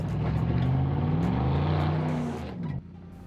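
A Chevy Silverado pickup truck climbing a steep off-road slope, its engine droning loud and steady with rising revs before cutting off abruptly near the end.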